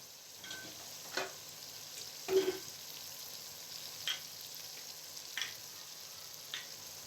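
Tomatoes fry in a pot for chicken korma, a quiet steady sizzle with several brief louder scrapes of stirring, and nobody speaking.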